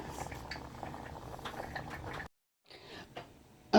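A chicken, sausage and shrimp gumbo simmers in a pot with a steady low bubbling and soft popping, close and quiet, broken by a brief silence before the bubbling resumes.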